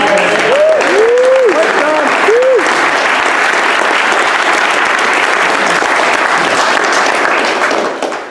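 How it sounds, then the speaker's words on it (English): Sustained applause from the audience at a gaming league tournament finale, loud and dense throughout, with a voice calling out briefly over the clapping near the start before it tapers off at the end. "Round of applause for Dan as well for winning that."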